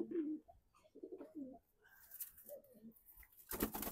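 Low, throaty coos of a moulting khaki pigeon repeat in short bursts near the microphone, with brief gaps and a rustling burst at the end.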